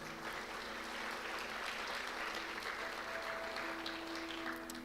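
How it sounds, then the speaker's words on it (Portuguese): A church congregation applauds at a Sunday service, a dense, even wash of clapping that holds steady, with faint sustained instrumental tones underneath. "Aplauda o Senhor."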